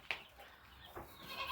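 A single short goat bleat sounds near the start, faint and distant against a quiet outdoor background of murmuring noise.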